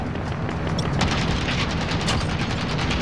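Sustained heavy fire from a gunship in a Call of Duty multiplayer match on the Shipment map, a dense continuous barrage of booming shots and rumbling impacts with no break.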